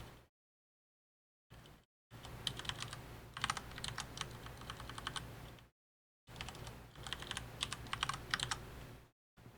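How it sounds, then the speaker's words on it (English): Rapid typing clatters on a computer keyboard in bursts of fast keystrokes, close and clear, broken by brief silent gaps. "Typing out all the texture function"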